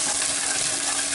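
Chopped onion sweating gently in fat in a pan for rice pilaf, giving a steady, even hiss of soft sizzling that carries on without pause across the whole short moment.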